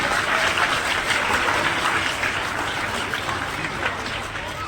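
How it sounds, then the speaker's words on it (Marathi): Students clap together at a school annual gathering, a sustained burst of dense applause that holds steady and fades slightly toward the end, with speech mixed in. "यासाठी सगळ्या विद्यार्थ्यांनी जोरदार टाळ्या वाजवल्या पाहिजे"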